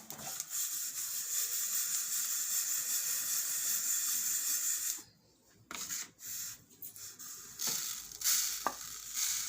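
Sesame seeds roast in a pan for til barfi, a steady close crackle and sizzle that drops away midway, then returns in uneven bursts with light stirring scrapes.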